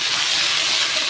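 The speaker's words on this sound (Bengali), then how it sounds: "আদাটা যাতে পুড়ে না যায় এর মধ্যে অল্প একটু জল দিয়ে দেবো।" Water poured into a hot pan with ginger sizzles in a steady, bright hiss that stays even and close throughout, with no talk.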